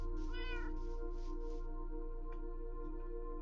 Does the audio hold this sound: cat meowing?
yes